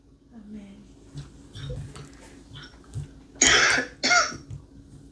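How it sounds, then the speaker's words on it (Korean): Someone in a Bible study gathering coughs a couple of times, two short harsh bursts near the end over a quiet room with faint background sounds. "자, 누가 기침하고 계시죠?"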